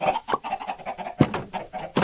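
Chickens clucking in the Minecraft video game, a few short scattered clucks and squawks at moderate loudness, with no talking.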